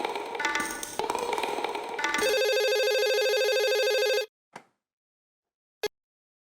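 A telephone bell rings loudly and steadily for about two seconds after a brief jumble of sound, then cuts off, followed by two short isolated clicks or taps in the quiet.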